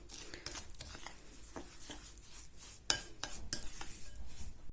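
A spoon stirs bath bomb ingredients in a bowl, giving quiet, irregular scraping with a few sharp taps, close but faint.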